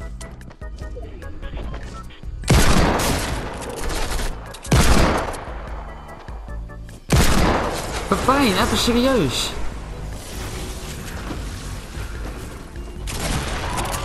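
Rapid bursts of Fortnite gunfire crack out in several loud volleys, with someone talking over the shooting.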